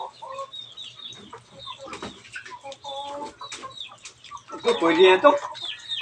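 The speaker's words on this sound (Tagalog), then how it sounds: "Dami pala manok ni kumpare dito." Chickens cluck and a rooster calls intermittently in a backyard flock, close by, with a louder burst of clucking near the end, while someone talks over them.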